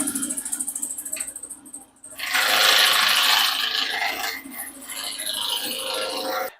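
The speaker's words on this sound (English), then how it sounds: "We're just going to start out today with our spindle roughing gouge to get these sharp corners off" A spindle roughing gouge knocks the sharp corners off a wood blank turning on a lathe, made into a seam roller. A rhythmic rough cutting noise comes first, then a loud steady hissing of shaving wood fills most of the clip.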